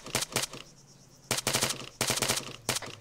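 Automatic gunfire in Arma 3 during a hostage rescue, several sharp bursts of rapid shots with a lull between them, fairly close and loud, with a faint steady insect-like hum underneath.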